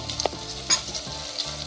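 Spices fry in hot oil for mutton biryani, a close, steady sizzle broken by quick stirring scrapes and a sharper spatter burst midway.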